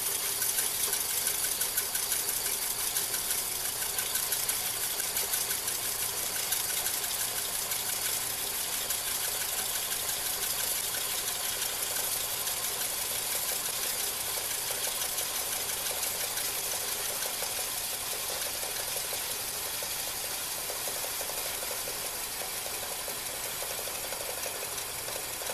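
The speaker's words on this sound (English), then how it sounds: "This is not loading the motor so much. It actually runs a little bit faster." Electric motor of a player organ rewinding a paper music roll onto its spool, a steady continuous whir with faint mechanical rattle, running evenly and fairly close with no talking throughout.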